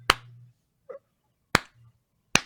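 Slow clap from a single pair of hands: three sharp, widely spaced claps about three-quarters of a second apart, close and crisp, with a faint knock between them in an otherwise quiet room.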